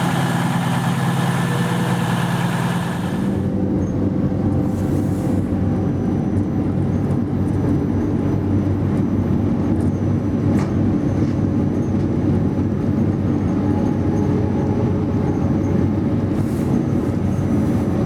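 A crowded Cross Country train bound for Exeter rumbles steadily as it idles and runs, a close, continuous low mechanical drone with a brief higher hum at the start and no talk.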